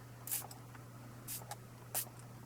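A MAC Prep and Prime Fix Plus face mist bottle gives three short, close hissing sprays, evenly spaced over a faint steady background hum.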